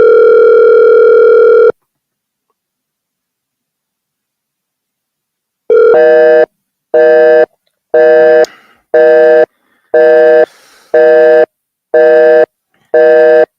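A loud telephone tone sounds on a line during a call-back, first as a steady tone that cuts off into silence, then as a regular series of short beeps.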